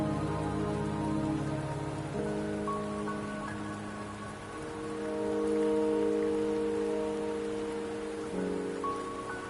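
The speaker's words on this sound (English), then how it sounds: "Don't worry, the rain won't last much longer." Rain falls in the video game Wuthering Waves, a steady, even hiss running throughout beneath sustained, held musical tones.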